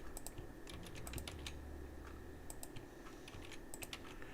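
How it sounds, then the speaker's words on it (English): Slow typing on a computer keyboard, scattered soft key clicks in small bursts over a constant low room hum, fairly faint and with no talking. "I meant to say I'm typing slowly."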